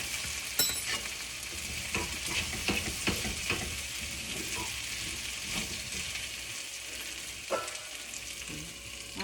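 Cabbage and potato sabzi frying in a pan, a steady loud sizzle broken by repeated scraping and clinking of a spoon stirring the vegetables, with no talking.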